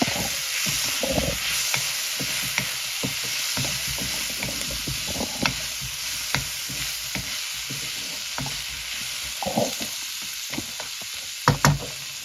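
Chopped tomato frying in a pan of squid curry base, a continuous moderate sizzle with spatula stirring scrapes and occasional sharper knocks against the pan, heard alone without talk.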